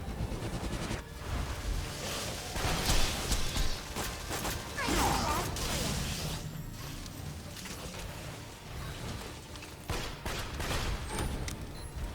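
A grenade bursts in the Borderlands 2 video game among scattered gunfire and mechanical clatter, giving a broad, rumbling blast roughly midway that fades into a noisy, busy combat scene with brief voices.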